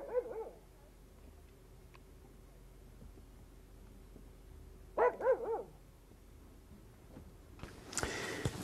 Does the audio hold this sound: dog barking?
yes